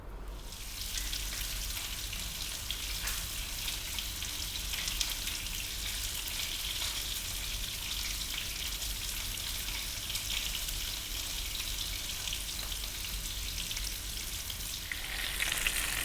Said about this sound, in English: We're going to fry this for about, in total, maybe 8 or 9 minutes.